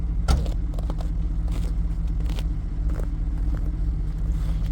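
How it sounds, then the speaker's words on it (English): Chevrolet Camaro IROC-Z and Pontiac Firebird engines idling together, a steady low rumble throughout with a sharp knock near the start and a few faint clicks over it. "so we got the Camaro all fired up here today. Got the Firebird fired up."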